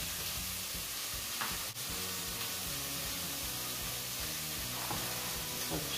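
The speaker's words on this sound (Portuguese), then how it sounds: "está fritando e o óleo começa a queimar" Sausage frying in oil in a skillet, a steady dense sizzle and crackle that fills the whole stretch with no talk over it.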